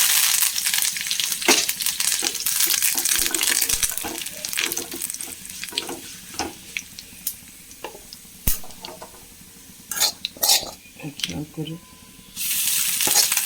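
Dried red chillies and curry leaves hit hot coconut oil with popping mustard seeds, giving a loud sizzle broken by sharp crackles and spits. A voice speaks briefly over the frying.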